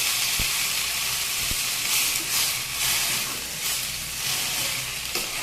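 Vegetables frying in a pan as a little water goes in, giving a steady close sizzle and hiss of steam with a few stirring knocks, no voices.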